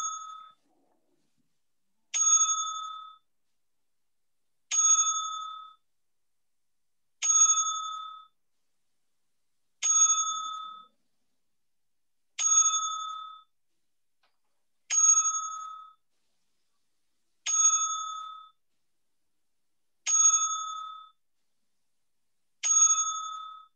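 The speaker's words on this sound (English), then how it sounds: "will be giving a 10-bell salute, as always, to anyone that we lost, but this time to Pat Patterson." A boxing-style bell rings ten times in a steady, evenly spaced series as a ten-bell salute on a wrestling podcast, each strike bright and ringing out before the next, with no talk.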